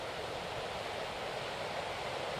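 Ocean waves roll in at Rest Bay on an early summer morning, a continuous hissing wash of surf heard from the beach, steady and moderately faint with no pauses.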